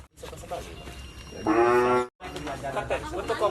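Cattle penned in village stalls during a vaccination round. A single loud, drawn-out moo rises clearly above a quiet backdrop of murmuring voices and farmyard sounds.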